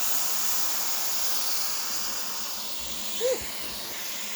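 Vegetable broth poured into a hot, seasoned pan with sautéed onions, bell pepper and garlic gives a broad, steady steam hiss, moderately loud, with a brief faint voice near the end.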